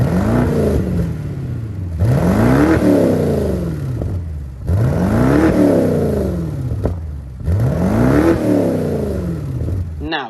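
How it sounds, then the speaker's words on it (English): BMW X6 exhaust blipped from outside, four sharp throttle revs in a steady rhythm, each rising quickly and falling back with brief quiet pauses between, loud and close with a deep rumbling tone. "Speaking of exhaust, let's listen."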